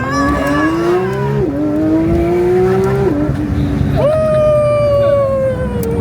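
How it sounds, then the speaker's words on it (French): Porsche 992 GT3 RS accelerating hard, its engine note climbing loud and close through successive gears with brief dips at each shift, while voices talk underneath. "l'accélération qui va taper maintenant."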